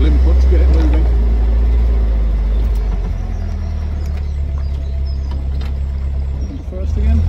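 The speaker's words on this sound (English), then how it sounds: "it does need a little bit of throttle input to get it moving" A replica WW2 jeep engine runs loud and close as it pulls away under light throttle, a heavy low rumble that stays strong before easing slightly near the end.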